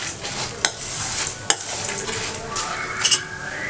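Pirandai (adamant creeper) chutney ingredients being sautéed in a pan, a close sizzle with three sharp clanks of a spoon striking the pan amid stirring scrapes.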